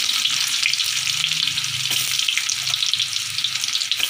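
Shallots sizzling in hot oil alongside garlic for a quick home dish, a loud dense continuous fry hiss close up with faint scraping underneath and no talking.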